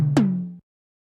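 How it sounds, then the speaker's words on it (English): Tom drum sample from Drum MX pitched up four semitones with distortion switched off: a ringing tail fading, then a single close tom hit with a quick downward pitch bend that sustains briefly and cuts off. "So this enables us to create interesting pitched tom drum sounds."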